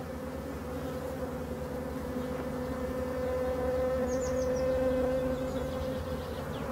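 Honeybees at an orphaned beehive produce a steady, dense buzzing drone that stays close and even throughout, with no talking.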